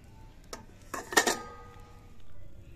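A cooking pot is set on a hot stovetop to bake chicken cheese boti, giving a few brief metallic clanks and a scrape of cookware, close and fairly quiet, with no talking.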